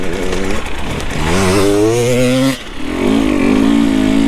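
Husqvarna TPI two-stroke dirt bike engine revving close by, a raspy buzzing motor climbing in pitch, dipping briefly mid-clip, then revving hard again.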